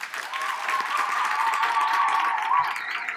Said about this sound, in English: Njabulo, can you give him a round of applause?